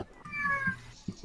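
A cat meows once, fairly close, with a brief drawn-out call and some soft background noise around it.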